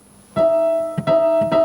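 A sustained tonal chord rings out, then is struck again twice in quick succession, clear and close with a tense, clashing quality.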